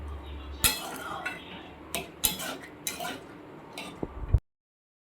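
Green chillies and sliced tomato being stirred into a curry in a pan, with a few sharp metallic spoon knocks and scrapes against the pan over a low steady background, ending abruptly.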